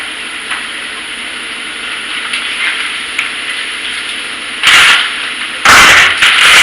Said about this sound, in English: We're going to put about 2 tablespoons of butter in there